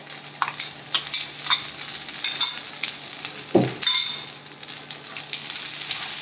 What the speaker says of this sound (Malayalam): ഇതിലേക്ക് നമ്മൾ ബോയിൽ ചെയ്ത് വെച്ചിരിക്കുന്ന ജീരകശാല റൈസ് ഇടുക.